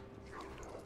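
A dog whimpering and yipping in the Resident Evil 3 video game, short faint whines over the game's background noise.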